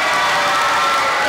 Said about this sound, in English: give a round of applause for him